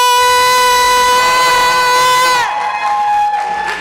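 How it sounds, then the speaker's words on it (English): Loud crowd at a get-out-the-vote rally in New Jersey cheering and whooping, with a sustained horn-like tone ringing over it for the first couple of seconds before the roar of voices continues alone. "A round of applause for Chelsea Handler"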